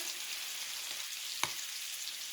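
Scallops sear in a really hot cast iron skillet with a steady, bright hiss of frying. A single brief tap or clink cuts through midway.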